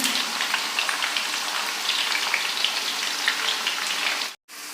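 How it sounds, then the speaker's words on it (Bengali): Potato chips deep-frying in hot oil over medium-high heat, a dense, steady crackling hiss like rain that runs unbroken, cuts out briefly near the end, then resumes. "যতক্ষণ পর্যন্ত কালারটা চেঞ্জ না হচ্ছে আমরা এটাকে ভাজবো।"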